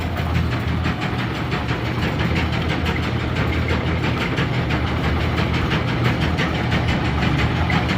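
Brunswick A2 bowling pinsetter running its cycle with a worn gearbox friction disc that makes it stop early, a loud, steady mechanical clatter and rumble that carries on unbroken throughout.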